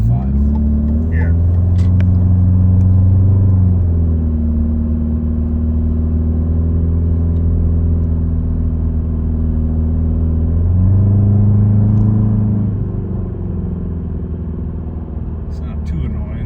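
A 2.5-litre Subaru Legacy fitted with a Nameless axle-back muffler drones steadily from inside the cabin while driving, its deep low exhaust hum rising and easing slightly, with people talking over it.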